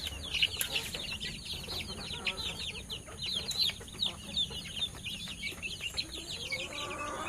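Young chickens cluck and chirp steadily while eating feed in a netted yard, a busy overlapping chorus of soft calls from several birds close by with no talk.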